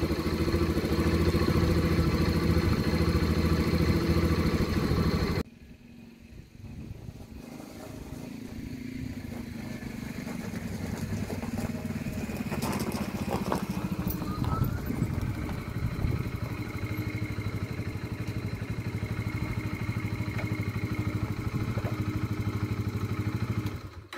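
A motorcycle engine starts and settles into a steady idle, a close, continuous mid-pitched rumble that drops back noticeably after the first few seconds and then runs on evenly, with no voices.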